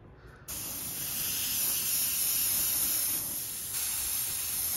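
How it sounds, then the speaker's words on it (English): A steady, loud hiss of an airbrush spraying paint heavily and continuously after a brief pause at the start, with no talking. "We're going to spray it heavy over here to see what happens."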